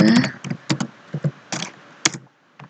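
Fingers typing on a computer keyboard at a command line, a close, irregular series of crisp key taps with short pauses between bursts.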